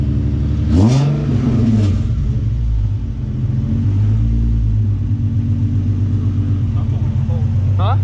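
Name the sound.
car engine revving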